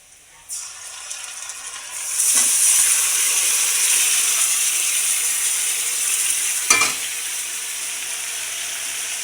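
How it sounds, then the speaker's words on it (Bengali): Marinated chicken pieces drop into browned onions in a pan for chicken biryani and set off a loud, bright, steady sizzle of frying, with a couple of scraping stirs partway through. "এখন এবারে যে ম্যারিনেট করা মাংসটা ছিল ওটাই এখন দিয়ে দেবো"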